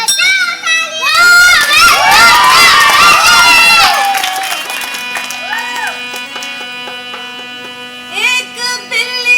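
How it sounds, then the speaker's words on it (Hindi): A theatre audience at a stage drama production erupts in loud clapping, cheering and children's shouts, then the noise fades to scattered claps and voices, with a brief swell near the end. "बजाओ तालियां!"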